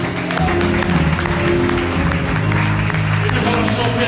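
A church congregation claps and cheers in a steady, loud wash, with sustained voices and tones running underneath the dense applause.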